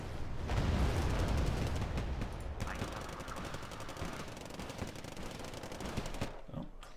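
Napalm rockets firing in the Wargame strategy game produce a dense, continuous roar of rapid launches and crackling blasts. The rattling barrage stays loud and steady for several seconds, then thins out.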